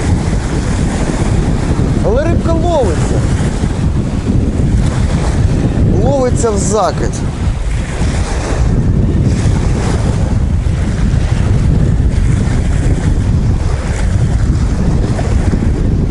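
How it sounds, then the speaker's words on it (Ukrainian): Strong wind roars constantly across the microphone by the Dnipro River, a loud buffeting rush with brief speech fragments heard beneath it. "погода просто самі бачите, який вітер роздувся"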